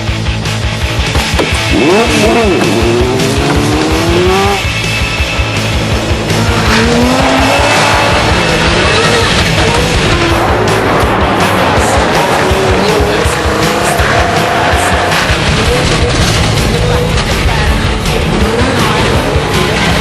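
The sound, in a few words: car driving on ice with skinny spiked tyres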